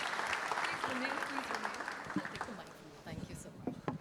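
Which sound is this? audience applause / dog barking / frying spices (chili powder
audience applause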